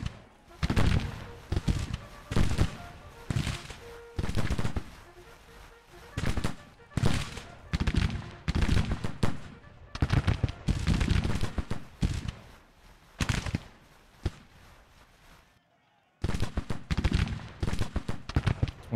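Ragged volleys of Civil War brigade musket fire crackle in repeated bursts across a battlefield in Grand Tactician, dense and fairly close, with one brief lull before the shooting resumes.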